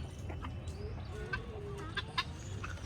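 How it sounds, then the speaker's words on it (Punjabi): A rooster clucks softly a few times against a low, steady outdoor background rumble, somewhat distant. "ਫੇਰ ਇੱਧਰ ਖੜਾ ਬਾਈ ਦਾ ਮੁਰਗਾ"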